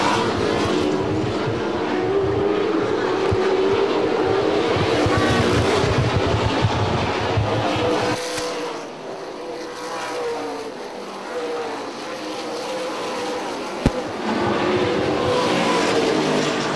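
Super late model race cars circle an oval track in a dense, continuous roar of engines that swells and fades as the field passes, heard from the stands at moderate distance.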